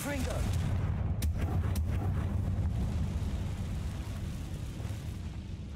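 A Confringo fire spell explodes in the Hogwarts Legacy video game, a loud deep booming blast with a long rumbling tail that slowly fades, joined by a few sharp cracks.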